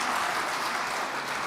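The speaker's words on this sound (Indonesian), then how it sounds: "Tepuk tangan yang keras." Dense, loud applause from a large crowd at an Indonesian House of Representatives hearing with the National Narcotics Agency, continuous clapping filling the whole moment.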